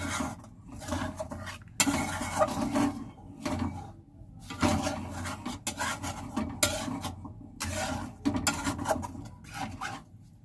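A wok is scrubbed with hot water, repeated rasping strokes and scrapes in bursts separated by short pauses, close and fairly loud.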